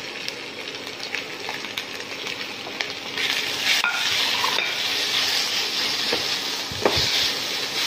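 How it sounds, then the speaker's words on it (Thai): Pork and red curry paste stir-fry in a pan with a steady broadband sizzle and scraping stir strokes throughout, growing louder partway through, with occasional clanks of utensil on metal and no talking. "หลังจากนั้นเราก็ใส่พริกแกงลงไปใส่หมู"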